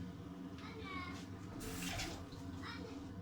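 Vegetables for an oven kebab are rinsed under a running kitchen tap, a continuous splashing stream of water close by, with people talking over it.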